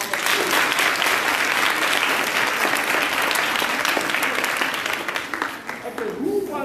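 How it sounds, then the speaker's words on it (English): A room full of primary schoolchildren at a school seminar breaks into sustained, loud applause, dense clapping from a close crowd that carries on steadily for several seconds before thinning slightly near the end. "Give yourself a round of applause."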